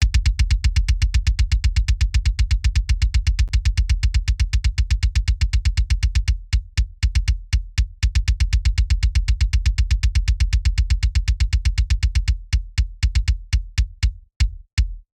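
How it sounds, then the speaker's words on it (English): A deep electronic kick drum repeats in a fast steady pulse, loud and punchy, with brief gaps and rhythmic stutters partway through. "So here's the full kick sound"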